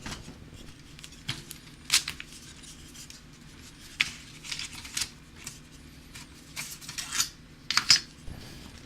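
Sharp knife strokes trimming the edges of a book during bookbinding, a series of quiet, irregular scraping swishes close by, some brief and some longer, with no talk.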